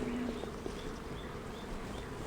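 Honey bees buzz at an open hive during a spring inspection of a split colony, a dense, steady drone close by with no pauses.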